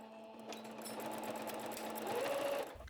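A sewing machine runs steadily for about three seconds, stitching a dart on fabric while a wide neckline is taken in, with a close, even mechanical whir and no voices.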